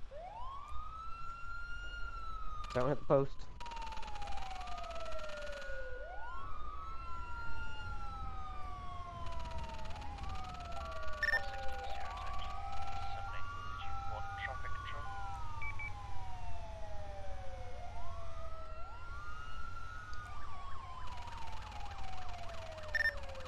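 A fire engine siren in GTA 5 roleplay wails in repeated rising and falling sweeps while responding to a vehicle crash call, steady under road noise and people talking over radio.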